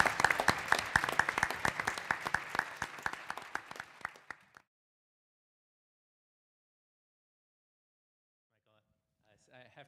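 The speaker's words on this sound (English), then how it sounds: "Let's give him a big round of applause." An audience at a symposium breaks into a round of applause, dense clapping for about four and a half seconds that ends abruptly, followed by silence and then faint speech near the end.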